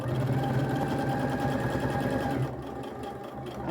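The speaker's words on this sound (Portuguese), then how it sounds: "Eu tô fazendo a costura bem pertinho, tá?" A sewing machine runs fast and steady, stitching fabric close by with a dense mechanical whir. The whir softens and turns choppier near the end as the stitching slows.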